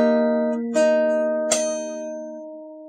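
Fingerstyle acoustic guitar plays a passage: two plucked chord attacks with a bright high note ring out close and clean, then sustain and slowly fade with no talking.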